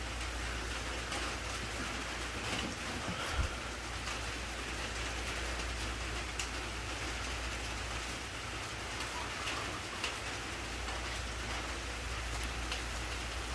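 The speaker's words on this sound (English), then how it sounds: "I apologize if you hear the rain over me." Steady rain falls outdoors beside a farm Jeep that is being worked on. The hiss is constant and fairly faint, broken by a few sharp drop ticks, with no voices.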